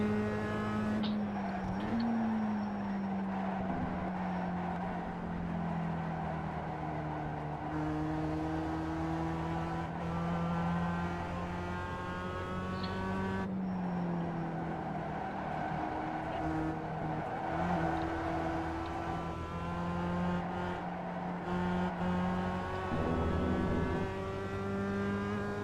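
Sustained, steady race car engine drone from the iRacing sim at Lime Rock, with pitch shifts from downshifting and short breaks where the revs drop, running continuously and loud with no talk.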